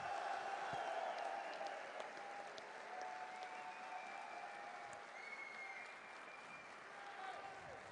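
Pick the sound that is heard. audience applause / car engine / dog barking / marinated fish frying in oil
audience applause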